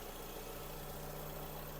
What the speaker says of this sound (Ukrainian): Ідеально працює двигун.